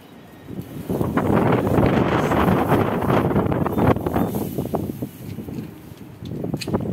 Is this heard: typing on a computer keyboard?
no